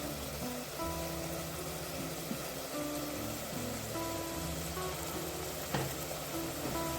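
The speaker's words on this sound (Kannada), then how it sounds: "ಟೊಮೆಟೊನೂ ಚೆನ್ನಾಗಿ ಫ್ರೈ ಮಾಡ್ಕೊಳ್ಳೋಣ" Tomatoes with turmeric fry in a pan for Bhatkal mutton biryani, a steady close-up sizzle with occasional stirring scrapes and no voices.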